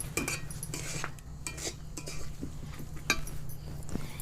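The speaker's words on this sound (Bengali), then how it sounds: "এবার আমি ভেজে রাখা বাদামটা দিয়ে দিচ্ছি, নেড়ে আমি সঙ্গে সঙ্গে চুলো থেকে এবার নামিয়ে নিব" Fried peanuts being stirred into thick caramel in a pan, with a spoon scraping and knocking against the metal in quick irregular strokes over a low steady hum, close and moderately quiet, no voices.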